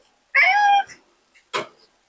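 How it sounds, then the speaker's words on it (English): A house cat meows twice indoors, a long drawn-out harmonic meow followed after a short pause by a brief, sharper second call, close and fairly loud with no talking. "My cat just came in."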